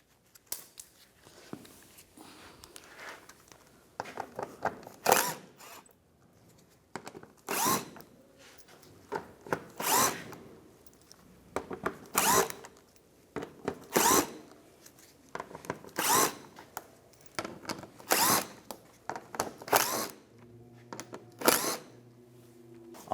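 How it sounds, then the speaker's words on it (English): A power drill fitted with a 7mm socket backs screws out of a 2015-2019 Lincoln MKC, sounding in repeated short whirring bursts separated by quiet pauses, close and loud. "Now take all these front screws out,"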